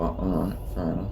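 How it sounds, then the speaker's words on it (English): Dogs fighting outside, with growls and snarls heard in two bursts under someone talking indoors. "sorry if you can hear those dogs fighting outside"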